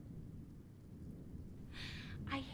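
A thunderstorm with low rumbling thunder and a steady wash of rain, with two brighter bursts of rain or crackle near the end over the continuous low roar, at moderate loudness.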